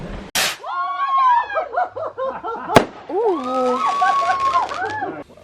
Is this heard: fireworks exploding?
yes